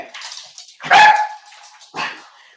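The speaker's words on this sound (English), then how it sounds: "She likes to bark out in the garden." A dog in a garden gives two loud barks, the first longer and stronger, the second shorter about a second later, with no talking.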